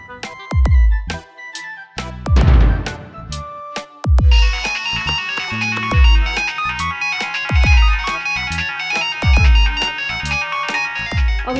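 A phone rings on an unanswered call, its electronic ringtone repeating loud and clear in a steady melodic pattern with short gaps, broken by a brief burst of noise near the start.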